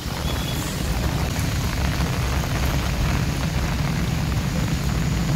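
Steady monsoon rain falls lightly near a lakeside promenade, a continuous even hiss with no pauses and no voices.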